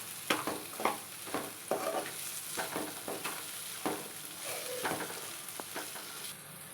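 A spatula stirs chili powder into capsicum rice in a pan, making a steady run of sharp, repeated scraping strokes close by, with a low sizzle underneath and no voices.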